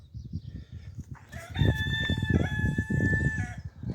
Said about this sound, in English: Damn chicken.